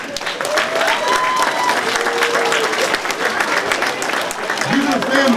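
A packed audience at a Dr. Martin Luther King Jr. ceremony in North Brunswick claps loudly and continuously, the thick applause carrying faint cheering and voices throughout.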